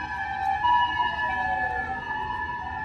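A fire truck siren wails, rising and falling steadily at a moderate distance, with a low rumble of traffic underneath, in Japan.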